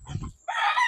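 Chickens on a small breeding farm, with a low clucking murmur followed by a loud, close rooster crow rising sharply and holding to the end.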